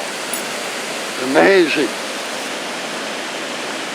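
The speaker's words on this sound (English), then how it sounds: "Look at the water come down." Flooded waterfall on Nottawa Creek roaring as a steady, dense wash of water noise throughout, with a person speaking briefly over it.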